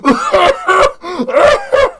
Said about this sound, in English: let me cough at your dog.